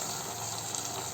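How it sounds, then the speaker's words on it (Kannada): Water poured steadily into a pan of baby corn manchurian sauce, a close, continuous splashing gush that holds at an even level throughout, with no voices. "ಈಗ ಇದರಲ್ಲಿ ಲೈಟಾಗಿ ನೀರು ಹಾಕ್ಕೊಳ್ಳಿ."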